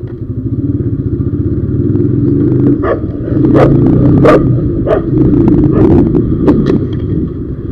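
A motorcycle engine drones steadily on a morning ride in Dhaka as a dog barks several sharp times nearby, the barks standing out over the continuous engine rumble and road clatter.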